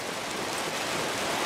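Half-inch hail falls in a dense, steady hiss of many small impacts, loud and close, with no voices.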